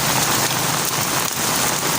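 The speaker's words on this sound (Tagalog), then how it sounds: "Puro ulan yung dala ni ano ni Bagyong Ada." Heavy rain from Typhoon Ada pours steadily in Eastern Samar, a dense, unbroken hiss of downpour on surfaces, loud and close throughout with no voices.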